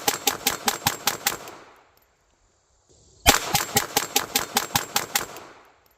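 A Taurus TX22 .22 pistol fired at a target on a range about 10 yards away, two fast strings of sharp, loud cracks, roughly eight shots each, separated by a brief silent pause.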